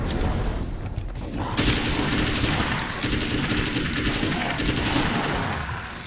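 Repeated booming gunshots from the player's gun in the video game Alan Wake's American Nightmare, loud and close, firing in quick succession across the whole stretch with no talking.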